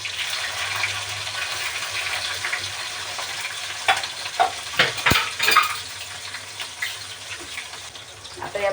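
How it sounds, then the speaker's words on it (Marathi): Crushed garlic and green chilli dropped into hot oil in a pan for an Indian okra stir-fry tempering, giving a steady close hiss that swells into louder crackling bursts, no talking. "आता लसूण आणि मिरची दोन्ही एकत्रच घालते."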